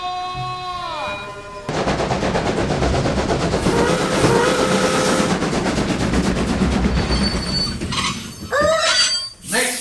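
A train sound effect: clattering rail cars and squealing wheels roll by loudly and steadily for several seconds, followed by brief whistle-like tones and sharp squeals near the end.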